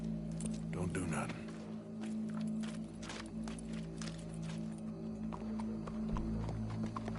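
Horse hooves clip-clop in a PS4 video game, a run of scattered hoof steps over a low ambient hum with voices talking alongside.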